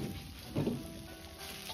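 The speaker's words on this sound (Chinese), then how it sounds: "接着倒入炸好的豆腐，翻炒均匀，把豆腐炒成颜色" Fried tofu and chopped scallions are stir-fried in a wok, giving a steady, faint, hissing sizzle with a brief soft clatter of stirring near the start.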